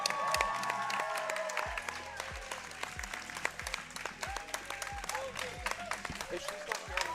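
An audience at a trampwall competition applauds the female competitors, sustained dense clapping and crowd noise filling the space, with a few voices and cheers mixed in throughout.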